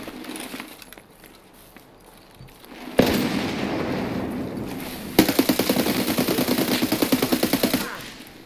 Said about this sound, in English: Grenade over there.